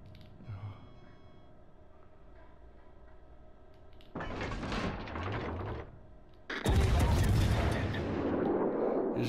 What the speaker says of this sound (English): Fire my torpedoes.